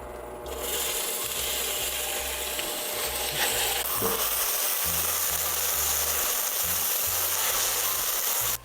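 Microwaved onions sizzle and hiss in a hot oiled pan while caramelizing for curry, a constant crackling fry with a stirring scrape now and then, close and unaccompanied by speech.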